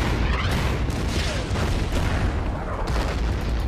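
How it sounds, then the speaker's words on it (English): Artillery fire hitting a bunker in the wartime strategy game Order of Battle: Winter War. Dense, rumbling booms of explosions overlap into a continuous loud barrage. "We want to take out that bunker, give it some artillery"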